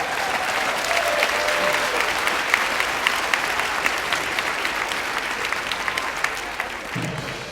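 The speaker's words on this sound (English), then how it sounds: "the reason that you're clapping for yourselves" An audience at an elementary school band concert claps for itself in a long, full burst of applause, dense and steady, easing slightly near the end.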